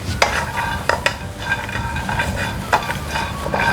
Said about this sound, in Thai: เราก็นำพริกกระเทียมและหอมแดงมาคั่วนะคะ